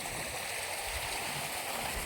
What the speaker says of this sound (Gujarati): જો પાણીનો ભપ જાય છે ચાલુ કરી દીધી મોટર